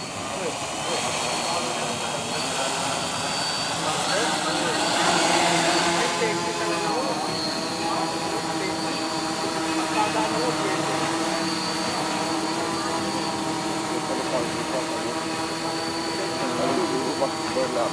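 A Y6 multirotor aircraft lands with its six motors running, a steady whining buzz with layered harmonic tones that waver as the RPM shifts. It stays loud and close throughout while people talk over it.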